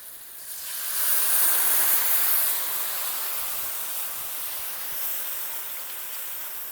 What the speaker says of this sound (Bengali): এবার সর্ষে বাটার মিশ্রণটা দিয়ে দেব।